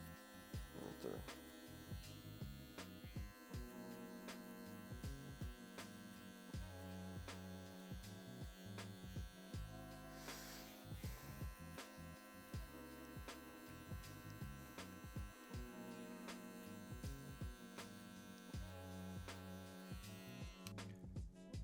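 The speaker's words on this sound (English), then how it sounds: "I'm just doing lever play, which is flicking the lever up and down until I see whatever I want to get blended out" Hair clippers buzz continuously during a mid drop fade haircut, a faint steady electric hum with small rhythmic flicks and changes in tone as the blade moves through hair.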